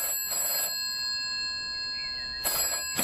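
Telephone bell in a radio drama rings in two loud bursts of electric trilling, separated by a pause of under two seconds, alone with no speech.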